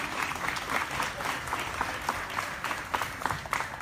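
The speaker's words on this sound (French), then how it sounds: "nous vous prions, cher public, d'applaudir ERA pour son travail dans le département du Nord-Ouest." Moderate audience applause, a steady patter of many hands clapping at a middle distance, with no voices standing out.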